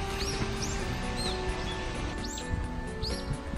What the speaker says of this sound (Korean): 지금 새들이 지저귀는 소리를 들을 수 있는데